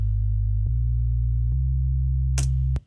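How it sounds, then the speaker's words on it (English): A synthesized bass of two pure sine tones, one two octaves and one an octave down, plays clean low sustained notes that step through three pitches with soft clicks between them, then stops abruptly after a brief noisy blip. "just 2 sine waves"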